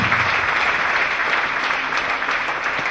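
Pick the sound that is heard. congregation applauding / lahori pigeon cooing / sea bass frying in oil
congregation applauding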